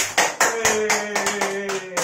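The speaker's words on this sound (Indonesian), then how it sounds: "mending kita tepuk tangan dulu biar rame" A class claps hands together in a rhythmic series of sharp, close claps, about seven beats over two seconds, with a faint voice under them.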